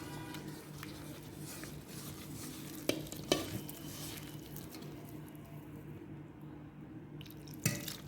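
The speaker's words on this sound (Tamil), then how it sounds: "கொஞ்சமாக தண்ணி ஊற்றி அப்படியே பேஸ்ட் மாதிரி கலக்கி வச்சுக்கோங்க." Turmeric powder and a little water being stirred into a paste for a quail roast, a soft steady scraping and swirling close by with a few sharp clinks of the spoon against the bowl, no talking.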